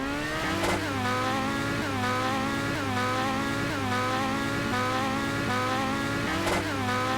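A car slides sideways along a wall in GTA 5, its engine droning loudly and steadily with rising and falling revs and tire noise throughout, no talk.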